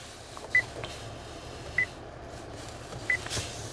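A Honda Accord EX chirps three short confirmation beeps as its doors lock or unlock, each beep brief and spaced about a second and a quarter apart over low outdoor background noise.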